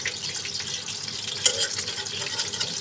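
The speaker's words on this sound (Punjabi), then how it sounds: "ਇਹਨਾਂ ਨੂੰ ਮੀਡੀਅਮ ਫਲੇਮ ਤੇ ਫਰਾਈ ਕਰਾਂਗੇ" Spinach and paneer pakoras fry in hot oil over a medium flame, giving a steady bubbling sizzle with occasional stirring clinks, close and continuous without speech.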